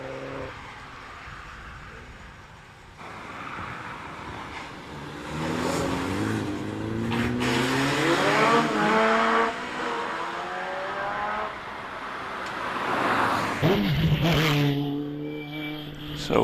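A 2-litre BMW Mini Cooper S races up a hill climb course, its engine climbing through rising revs and gear changes, moderately distant and growing louder before fading, with tyre noise.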